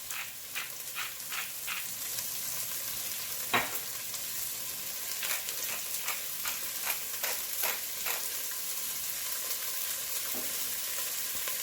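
Carrots seasoned with salt and pepper cook in a pan while being browned for a meatball ramen, giving a steady soft sizzle broken by brief scrapes and stirring clatters, fairly close and with no talk.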